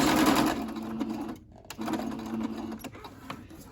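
A sewing machine stitches quilt strips for a scrappy string quilt, close and loud, in two steady bursts of stitching separated by a brief pause, with no talking.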